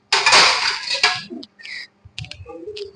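A large plate lifted from a stack in a kitchen, giving a bright ceramic clatter followed by a few lighter clinks and taps, close and fairly loud, with no talking.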